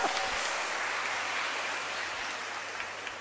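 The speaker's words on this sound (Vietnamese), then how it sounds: "Một tràng vỗ tay." A church congregation gives a round of applause, a steady, hissing wash of many clapping hands that holds evenly and slowly fades a little over a few seconds.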